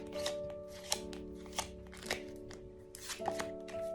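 Tarot cards shuffled and drawn from the deck during a pick-a-card reading, several crisp, close flicks and slaps at irregular intervals over a steady faint hum, with no voices.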